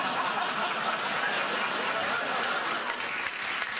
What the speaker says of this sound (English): Started with nothing, ended up with a round of applause.